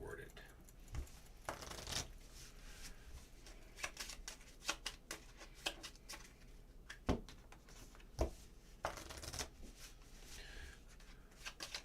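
Game cards are shuffled in a steady series of soft riffling bursts and snaps, close and quiet, with faint voices speaking underneath.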